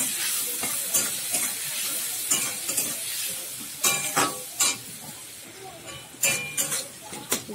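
Chopped tomato hitting hot spiced oil with salt and turmeric for a Bengali niramish dish, a continuous bright sizzle broken by repeated scraping and clinking strokes of a spoon against the pan.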